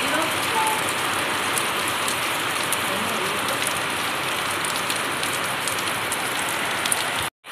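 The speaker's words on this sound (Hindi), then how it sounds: "अभी अब बारिश बढ़ने लग गई है।" Heavy rain pours steadily in a dense, unbroken hiss, loud and close, cutting off abruptly at the end.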